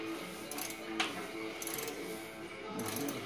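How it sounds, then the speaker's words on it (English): Garter pins are worked out of the shackles of a Ford Model A driveshaft in a garage, making quiet metallic clicks and ratcheting clinks in short bursts. "He's going to take out the garter pins."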